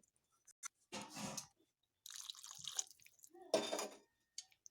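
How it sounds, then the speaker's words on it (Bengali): Water poured into a cooking pot of fig and rice being prepared for boiling, heard as quiet splashes and trickling in a few short bursts separated by silence, close and fairly faint. "এবার আমি এগুলোকে সেদ্ধ হবার জন্য আরও একটু জল দিয়ে নেব"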